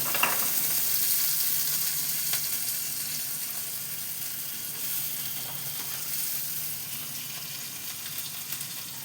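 Chopped tomatoes and onions with a little salt frying in a pan, a steady soft sizzle running throughout with occasional faint clicks of stirring, no voices.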